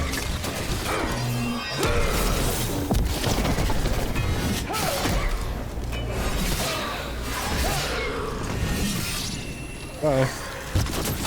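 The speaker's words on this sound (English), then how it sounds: "We're under fire." Gunfire during combat in the Dragon Age: The Veilguard video game, a dense sustained barrage of shots and impacts under game music and effects, with a voice speaking over the fight.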